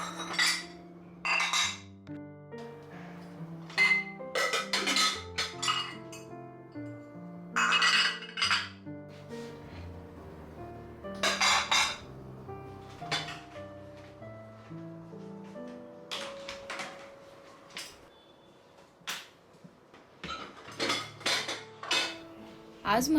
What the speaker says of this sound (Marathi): त्यानंतर किचनमध्ये जी वॉश करून भांडी ठेवलेली ती लावून घेतली